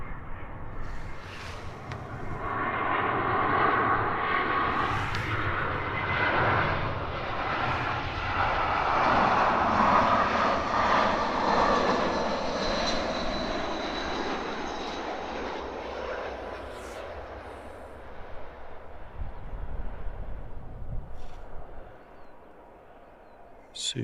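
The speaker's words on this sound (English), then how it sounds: "Super smooth landing from the BA." A British Airways airliner lands at Edinburgh Airport, its engine roar swelling and then fading across a long, broad rumble heard from a distance, with voices talking over parts of it.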